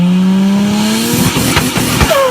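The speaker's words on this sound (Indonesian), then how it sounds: "candu pecandu suara stututututut yang dihasilkan oleh mesin mobil yang memiliki turbo" A turbocharged car engine revs up with a rising tone, then lets off into a rapid stututu turbo flutter, a burst of loud, close, choppy chatter.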